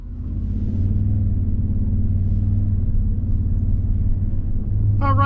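2024 Toyota Sequoia Capstone SUV with i-Force Max powertrain driving off, a steady low engine and road rumble heard from the cabin, with a brief higher tone near the end.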